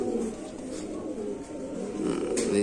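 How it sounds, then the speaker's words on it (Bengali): A single pigeon of John Arden bloodline coos in low, soft rolling phrases nearby, with a voice partly overlapping. "আচ্ছা এখানে আছে এক পিস কবুতর"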